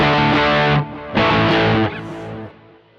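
An electric guitar plays a distorted riff drenched in delay and reverb through a Bogner Ecstasy Synergy preamp. Loud sustained chords are cut by a short gap, then ring again and trail off into fading echoes.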